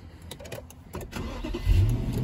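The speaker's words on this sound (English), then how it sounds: "So now, we're going to turn the car on again." An Infiniti M35's engine cranks and catches after soft clicks, then settles into a low, steady idle heard up close and fairly quiet.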